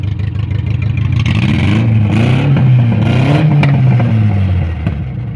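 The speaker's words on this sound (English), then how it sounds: "rev it up a little bit." A car engine with a coolant leak revs up and holds at a high, rough pitch, rising and falling slightly, loud and close, then eases off near the end.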